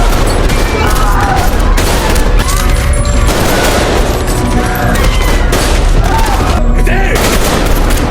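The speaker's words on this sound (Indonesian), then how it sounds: "Tentara Jepang menembaki para rakyat Joseon di penjara bawah tanah" Japanese soldiers fire guns at prisoners in an underground prison in a film. The heavy, continuous volley of gunshots and booms stays loud and dense for the whole stretch.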